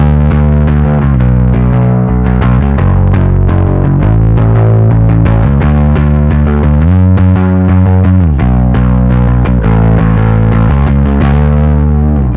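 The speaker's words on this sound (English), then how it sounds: "This is the Basstard from OKKO, the first bass distortion I really liked." Bass guitar played through an OKKO Basstard distortion pedal, a heavily distorted riff, loud and continuous, with thick saturated low notes and a gritty buzzing edge throughout.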